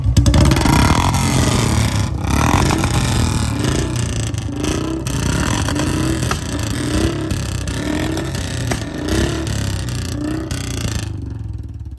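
Two Royal Enfield Bullet motorcycles, one BS6 and one BS4, idle and rev together with a steady, loud thumping engine rumble, swelling in a few blips before cutting off near the end.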